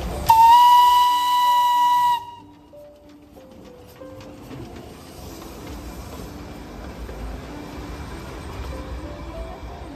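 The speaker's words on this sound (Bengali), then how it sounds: "ঠিক এই মুহূর্তে একটি টয় ট্রেন এই বাতাসিয়া লুপকে ক্রস করছে।" Darjeeling toy train steam whistle sounding one loud sustained blast at Batasia Loop, then fading into the low rumble and clatter of the small train rolling along the hill track.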